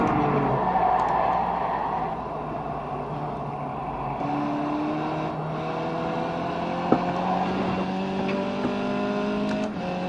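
A race car in iRacing climbing a hill at the Nürburgring GP circuit, its engine droning continuously at high revs with rising pitch as it shifts and accelerates, loud and steady throughout.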